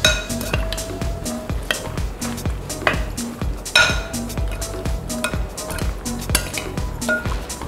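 Chopped herbs and teriyaki glaze mixed in a bowl, a utensil striking and scraping the bowl in quick rhythmic clinks and rings, close and bright, with faint background hum.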